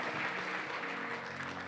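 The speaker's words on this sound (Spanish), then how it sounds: "¿Cuánto le damos un aplauso, Señor, por la vida de estas lindas mujeres?" Congregation applauding for women in a church, a steady wash of clapping heard alone at moderate loudness, with a faint low hum beneath it.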